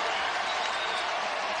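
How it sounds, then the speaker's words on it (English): Texas Tech Red Raider basketball crowd cheering during a game against Texas, a steady, dense roar of applause and cheers filling the arena without break. "Red Raider crowd again."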